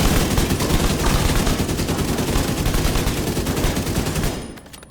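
Sustained rapid automatic gunfire from a black market AKM rifle in The Division 2, loud and continuous for several seconds before cutting off abruptly near the end, with no talking.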